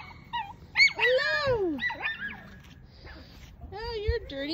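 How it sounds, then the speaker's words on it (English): Six-week-old puppies outdoors whimper and yip in high, wavering cries, close and fairly loud, with short gaps between bursts. "Puppies are outside exploring."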